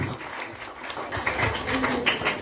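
A church congregation claps and cheers in praise, a rising burst of applause with scattered hand taps and voices building loudly after a quieter start.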